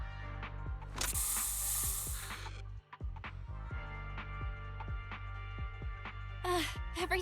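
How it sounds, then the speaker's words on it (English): Special Bang Boo spray released in Zenless Zone Zero, a loud hissing burst that lasts over a second, set against game music and mechanical clicks, with a second short hiss near the end. "Here, have a taste of the special Bang Boo spray."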